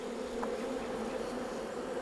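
Honeybees buzz steadily around hives kept for migratory beekeeping, a soft continuous drone at moderate distance with no voices.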